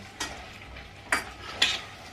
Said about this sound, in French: on entend maintenant les pois chiches dans la casserole qui commencent à chauffer